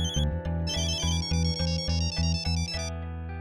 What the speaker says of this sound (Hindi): किसका फोन है? किसका फोन है? जल्दी देखो।